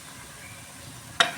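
Raw chicken dropped into a hot pan of oil and coriander powder for a Kerala chicken curry, giving one sudden loud sizzling burst near the end after a quiet stretch.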